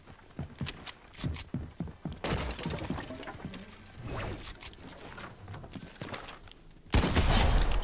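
Gunfire in the Fortnite video game, with a run of quick sharp shots early, then denser bursts of fire and a loud blast near the end, all fairly close and with no clear talk.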